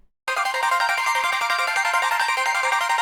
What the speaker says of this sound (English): It's a very fast melodic loop